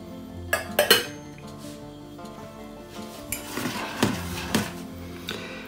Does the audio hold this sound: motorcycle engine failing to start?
no